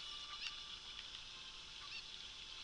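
A chicken squawks in the video game Zelda: Ocarina of Time, a few shrill, honking clucks spaced out over a steady electronic hum, fairly faint and with no speech.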